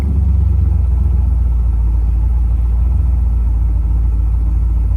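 A tired old engine idles steadily with its speed being turned down, a loud, even low rumble with a fine regular pulse, running alone with no voices.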